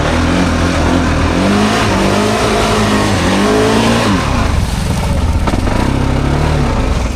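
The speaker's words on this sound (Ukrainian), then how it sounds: "Мотора вистачає, колеса крутяться, болото летить вище дерев." An ATV engine roars and revs loudly in a swamp, pitch surging and dropping as wheels spin and churn through mud, with thick rushing noise around it.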